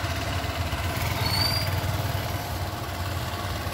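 A motorcycle engine idles steadily as the bike comes to a stop, a close, continuous low throbbing hum with a constant rumble and no talking over it.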